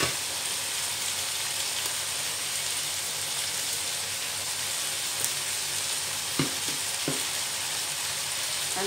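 Sweet potato tops simmer in coconut milk with crushed pepper, a constant hissing bubble from the pan with a few sharp stirring knocks near the end, no talking.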